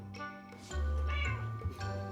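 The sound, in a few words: cat meowing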